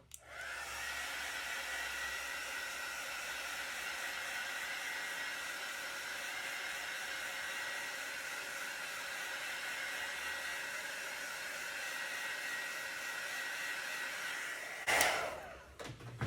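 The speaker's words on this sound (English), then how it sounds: "I'll just use the heat embossing tool." A heat embossing tool blows hot air in a steady, moderately quiet whoosh that holds almost unchanged for about fifteen seconds, then is briefly jostled near the end.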